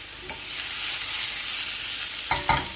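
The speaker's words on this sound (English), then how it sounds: "Now it's time to add in the tomatoes." Tomatoes dropped into a hot frying pan for aubergine parmesan, giving a sustained bright sizzle close by, with a couple of sharp toss or stir clatters near the end and no talking.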